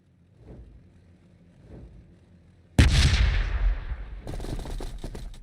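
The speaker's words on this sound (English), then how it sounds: "Plasma gun." A plasma gun fires in the strategy game Warhammer 40K Battlesector: a sudden loud blast breaks a quiet stretch, then rumbles and decays into crackling follow-up bursts.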